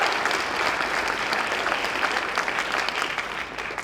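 Sustained applause from a school concert audience at a spring jazz concert, a dense steady patter of many hands that holds throughout and tapers slightly at the end.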